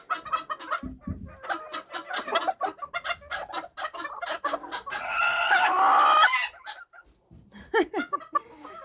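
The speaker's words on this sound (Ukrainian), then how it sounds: "ну, верещіть." A young bantam rooster screeches loudly and harshly up close, a sustained frantic squawk rising over several seconds amid scattered clucks and rustling.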